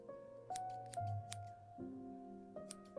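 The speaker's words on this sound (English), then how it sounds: "that additional sound of scissors is very nice touch" Crisp scissors snips from the Path to Nowhere video game, several quick metallic cuts ringing over soft sustained musical tones, faint and close, with no talk.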